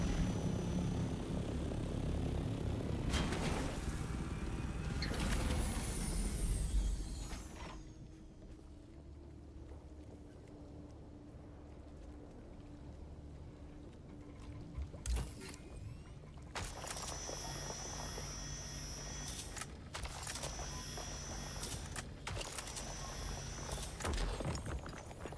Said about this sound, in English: the assault copter has some really cool assault thopter has some really cool sound effects.